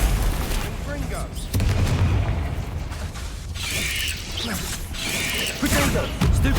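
Booming blasts from the Confringo fire spell in the video game Hogwarts Legacy, heavy and repeated, with a spoken voice and game combat noise mixed in throughout.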